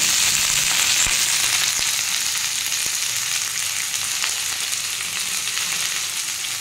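Sliced potatoes and onions sizzle steadily in oil in a pan, a continuous close-up hiss with a few faint stirring clicks and no talk.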